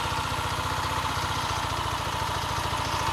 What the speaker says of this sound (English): that's been idling for a while now. It doesn't like it. It likes to high idle